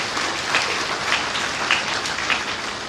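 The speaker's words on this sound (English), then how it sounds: "Give him a round of applause." Moderate applause from the audience at a professional induction ceremony for new members, a steady clatter of many hands with a few sharper claps poking through.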